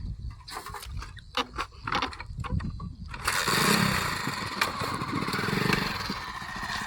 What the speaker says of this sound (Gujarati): ચાલો આ વાડીનું સ્પેશિયલ બાઇક છે